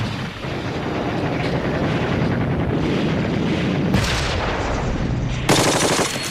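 Light machine gun fire in WWII archive footage from the German push on Sedan, dense continuous rattling bursts with booming blasts, loud and harsh throughout, ending in sharp bright cracks.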